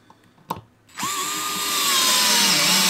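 A Hyper Tough 4V cordless screwdriver driving a Phillips screw at max speed with the clutch at max: a brief click, then a steady close motor whine that rises and strains as the screw seats.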